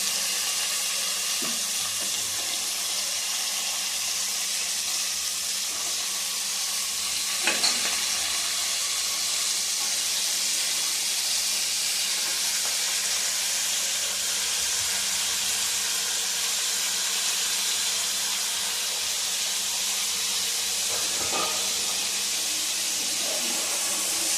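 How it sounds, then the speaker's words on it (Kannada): Cumin seeds sizzle while frying in a pan for a ridge gourd dish: a loud, continuous hissing sizzle close by, with a few faint stirring clicks and no voices. "ಸ್ವಲ್ಪ ಫ್ರೈ ಆದಮೇಲೆ ಜೀರಾ ಹಾಕ್ತಾಯಿದ್ದೀನಿ"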